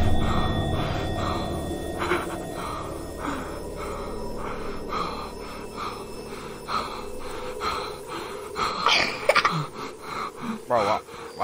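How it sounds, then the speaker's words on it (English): A video game character in a horror map pants heavily in steady, rhythmic breaths that run the whole time over a busy background, with a few sharper gasps near the end. "why is my guy panting like this"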